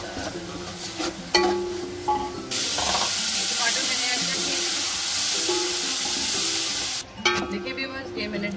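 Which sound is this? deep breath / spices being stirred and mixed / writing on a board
spices being stirred and mixed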